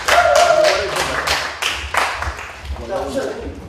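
Clapping for the founding members at a 30th-anniversary Daedongje festival gathering about the Gomoryeong cultural space, heard as a steady run of rhythmic hand claps, fairly close and strong, mixed with voices in the room.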